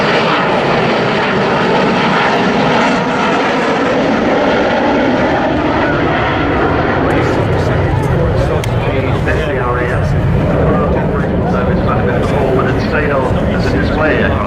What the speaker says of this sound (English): nobody thought we'd ever see a Vulcan flying